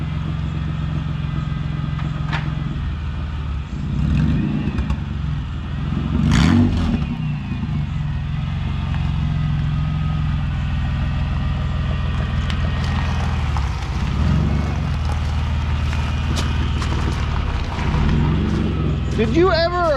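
A Toyota MR2 Spyder with a swapped 1MZ V6 and aftermarket exhaust runs steadily with a low, continuous engine drone, swelling briefly as it revs, while people talk over it nearby.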